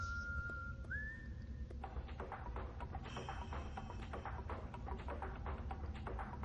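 A character whistles a tune in the Far Cry 3 video game during a poker scene, a sustained bright melodic whistle with a rising slide, over steady background game noise and murmur.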